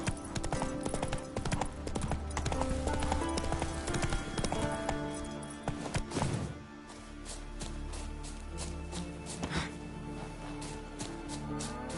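Horse hooves clip-clop in a rapid galloping rhythm in The Witcher 3 video game, loud and close, then slowing to sparser steps, with a brief voice briefly heard.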